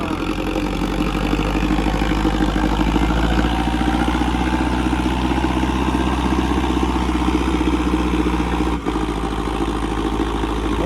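A tractor engine runs at a steady idle, loud and close, with a constant low rumble and clatter throughout and one brief dip near the end.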